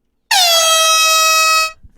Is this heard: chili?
no